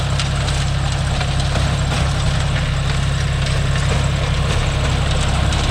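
A John Deere 5050D tractor engine runs steadily while pulling a 36-blade rotavator through dry land, a loud, continuous low diesel drone with a constant throbbing vibration and no let-up.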